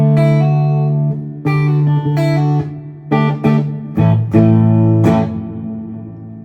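Bass played through a Boss RV-500 reverb pedal stacked with an amp's built-in spring reverb: several sustained low notes and short phrases, each ringing out with a lush reverberant tail, loud and close.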